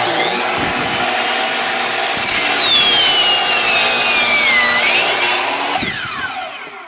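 A power saw cuts through wood up close, its loud whine bending in pitch as the blade bites, then winding down at the end.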